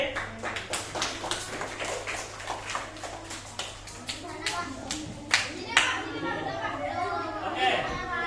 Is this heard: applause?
yes